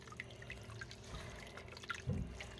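Hot water trickling and dripping while a cast iron Dutch oven is rinsed, faint and close with a small splash near the end.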